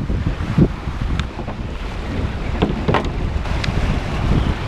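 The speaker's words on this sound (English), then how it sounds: "crazy windy today" Gusty wind buffets and rumbles across the microphone in a constant low roar, with no voices, while kayak fishing.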